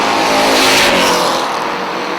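Race cars lap a racetrack in a loud, close engine roar that swells as a car sweeps past mid-way and then fades slightly, with no talking.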